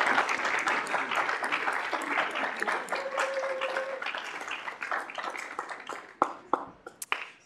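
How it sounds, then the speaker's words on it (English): An audience at a student senate meeting gives the interns a round of applause, a steady wash of clapping that thins out into a few scattered claps at the end. "Give them a round of applause."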